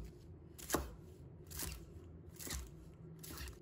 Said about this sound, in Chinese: 再准备一把小葱，把它切成小段